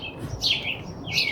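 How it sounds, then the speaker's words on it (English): Small birds chirp and tweet in a blooming apple tree in a neighbouring backyard garden, two bright bursts of song close by and fairly loud, with no talk. "it's such a great place for the birds to hang out and talk to each other"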